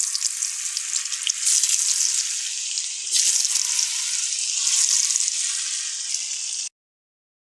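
Potato fries crackle and sizzle loudly in hot oil, a steady broadband hiss with a slight surge midway that cuts off abruptly near the end.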